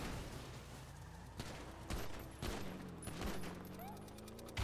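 Gunfire in a roleplay video game: several sharp shots crack out at irregular intervals over a steady game background, with voices talking and shouting in between.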